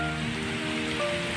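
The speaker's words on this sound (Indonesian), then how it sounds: "Lagi muat tapi posisi lagi hujan nih teman-teman." Steady rain pours down while a truck is loaded, a constant close hiss with faint tonal hums underneath and no voices.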